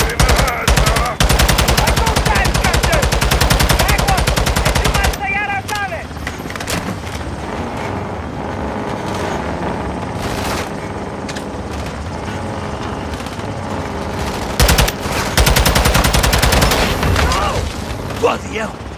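Sustained automatic gunfire in the video game Call of Duty: Modern Warfare 2, loud rapid bursts at the start and end with battle noise and booms between, and shouting voices over the fighting.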